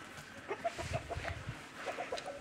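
A few chickens, a rooster among them, give soft, scattered clucks. The calls come in short bursts at a quiet, close distance, with no talk.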